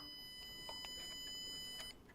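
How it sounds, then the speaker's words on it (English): A low-cost home security system sounds its alarm after motion is detected, a steady high-pitched electronic tone with several beeps over it, held for about two seconds before cutting off, close and fairly quiet. "But if there is motion, for example, my hand just moved over. Then it will start an alarm."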